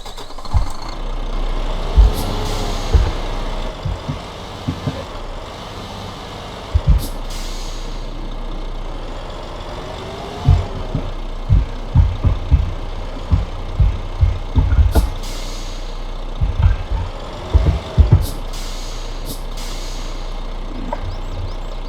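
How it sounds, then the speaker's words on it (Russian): A Kamaz truck engine in the game Spintires starts and settles into a low idle, with repeated hisses of air brakes and occasional revs in a synthetic, game-like sound. "давайте запустим двигатель"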